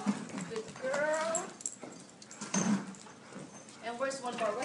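Small dogs at a home for adoptable dogs whimper and give short yips in bursts, close by, mixed with a voice talking over them.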